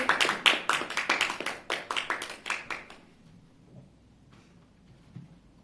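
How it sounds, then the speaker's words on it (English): Several people clap for a speaker at a talk on vegetarianism, a short patter of distinct, fairly close handclaps for about three seconds before the room falls quiet. "Can you please give him a big round of applause?"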